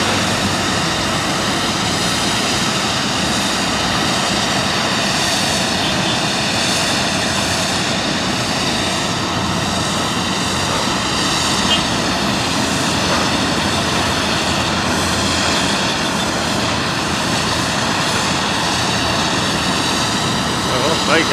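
A large UPS cargo aircraft on the apron at East Midlands Airport gives off a steady, loud engine roar that holds evenly throughout, with a person talking over it.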